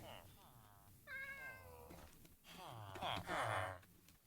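A cat in the video game Minecraft meows several times at close range, drawn-out wavering calls over a faint constant background hiss.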